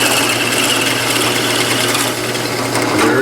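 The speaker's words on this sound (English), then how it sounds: "Very slowly and carefully drill that hole, chasing our original hole." A steady, close mechanical whir of a drill grinding through a hard polyester resin pen blank, continuous and loud with a slight dip partway through.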